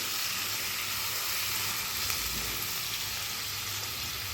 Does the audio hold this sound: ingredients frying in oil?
yes